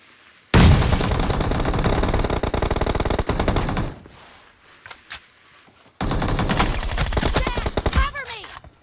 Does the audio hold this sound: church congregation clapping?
no